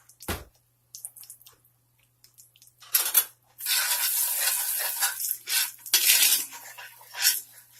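A spoon stirs sweet potato mixture with sugar in a hot pan, giving scattered scrapes and then longer bursts of scraping and soft sizzle at close range.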